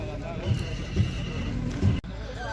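Horses at a livestock market near Almaty, a mare with her foal, with a few soft hoof thuds and shuffles amid crowd bustle and someone talking.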